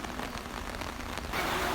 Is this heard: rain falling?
yes